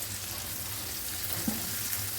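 Fried eggs added to spice masala already frying in a pan give a steady, close sizzle and crackle with faint stirring scrapes throughout, and no voices.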